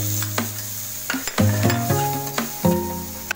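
Garlic and onion sautéing in hot oil in a kawali, a close sizzle broken by several loud scraping and clanking strokes of a utensil against the pan, irregular and without talk.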